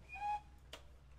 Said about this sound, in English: the guard's blown his whistle